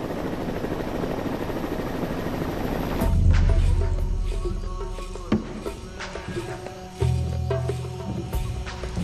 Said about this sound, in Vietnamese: Vậy thì chiếc trực thăng đó làm gì? Mà cứ bay ở trên trời thế chứ?